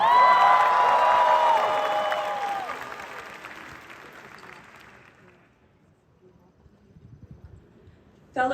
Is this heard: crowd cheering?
yes